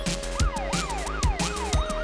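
A cartoon ambulance siren, loud and close, with a rapid rising-and-falling electronic wail repeating about every half second over a driving beat, and no voices.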